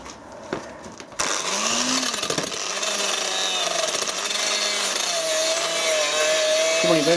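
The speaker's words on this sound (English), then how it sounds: "I'll do a little rub with a grinder." A die grinder fitted with a wire brush whines and rasps steadily across a repaired alloy sump, a loud, close, continuous abrasive scrubbing that starts abruptly after a few quiet knocks and holds for several seconds.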